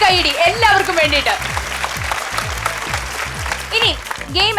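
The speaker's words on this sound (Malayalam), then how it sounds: "നല്ലൊരു കൈയടി എല്ലാവർക്കും വേണ്ടിയിട്ട്." Audience applause at a Malayalam television game show, a steady loud wash of clapping from the crowd, with a presenter's voice and laughter cutting through over the top.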